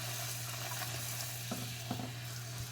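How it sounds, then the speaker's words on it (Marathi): Spinach puris deep-fry in hot oil, giving a low, steady bubbling sizzle with a few light clinks and scrapes of a utensil near the end. It stays fairly quiet, and no one speaks. "तेल तापत ठेवलेलं आहे मी तर त्याच्यात आता या सोडायचं आहे पुऱ्या"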